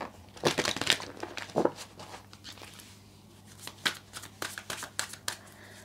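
Tarot cards from an African goddess-themed oracle deck are shuffled and drawn, giving papery riffling and crinkly flicks in uneven bursts, close and moderately quiet with no clear speech.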